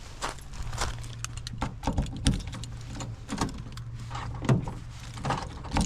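Keys jangle and scrape at the lock of an old Ford Fiesta's door, with clicks, rattles and taps up close over a low steady hum, no voices.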